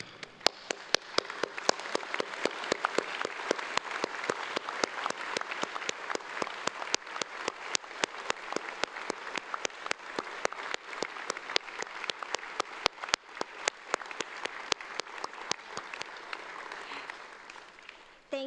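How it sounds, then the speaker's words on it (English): A graduation audience gives a long, loud round of applause, dense steady clapping filling the hall throughout with a few sharper claps standing out, no talking. "really loud round of applause."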